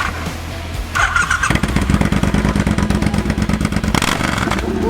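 A Triumph motorcycle engine cranks and fires, settling into a loud, steady, close-up running rumble with a bright squeal at the start and a brief surge near the end.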